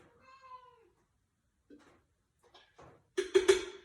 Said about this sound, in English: that is my little Ellie girl cat, if you can hear her meowing